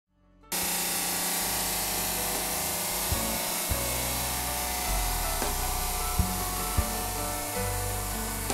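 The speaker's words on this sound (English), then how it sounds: "So let's start the saw up and get this cut." A wet stone saw starts up and cuts a granite kitchen countertop slab, a loud sustained whine with a grinding edge running steadily after a brief silent start, with a few sharp clicks along the way.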